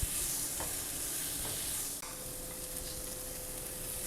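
Onion with bell pepper and chili browning in a frying pan, a continuous dense sizzle with soft stirring scrapes and a brief pause in the middle, heard up close without speech.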